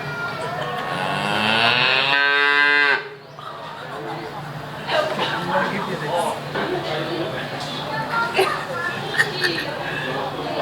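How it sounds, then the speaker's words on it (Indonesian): Cows and calves on a dairy farm in Sabah let out a long, loud moo up close, then farm noise continues with voices and children chattering in the background. "Lalu memberi makan dan minum susu anak-anak sapi di sini."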